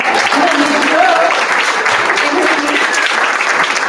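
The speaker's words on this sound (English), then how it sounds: "You can clap one more time for me." Steady, full audience applause at a book launch in a public library, sustained and even throughout, with some voices mixed into the clapping.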